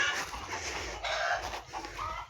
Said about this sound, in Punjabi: ਤਾਂ ਕਰਕੇ ਲੱਗ ਪਏ ਇਹ ਸਾਰੇ ਬੋਲਣ ਮੁਰਗੇ